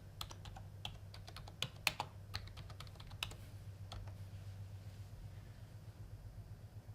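Someone types a search query on a computer keyboard, a quick run of light, close key clicks in short bursts over a low steady hum, fading to sparse taps, with no talk.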